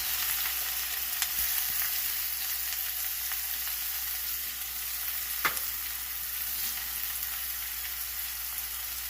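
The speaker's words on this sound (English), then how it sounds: "Be careful, the oil will splatter. And then put the onions." Onions, green chilies and curry leaves fry in hot oil for kanda pohe, giving a steady close hiss of sizzling with scattered small pops and one sharper crackle midway.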